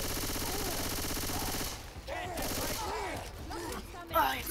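Gunfire in Left 4 Dead 2 rattles as a dense, continuous automatic burst for the first couple of seconds, then gives way to people talking over quieter game sounds.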